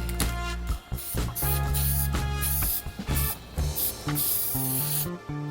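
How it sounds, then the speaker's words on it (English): Close aerosol spraying of molybdenum lubricant in repeated hissing bursts, with short pauses between sprays and a faint musical hum beneath. "Spraying on some molly."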